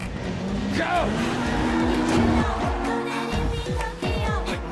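Race cars drift through a street race in a Tokyo Drift film scene, with engines roaring past, tires squealing and skidding in repeated sweeps, loud and close, while voices talk over the action.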